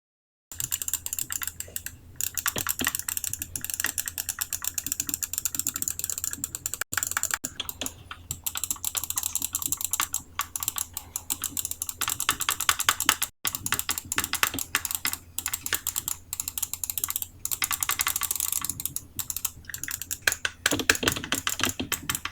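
A keyboard is typed on continuously with keys whose switches have had their edges sanded and that use resin parts. The clicks are dense and steady, close and fairly loud, with no voices.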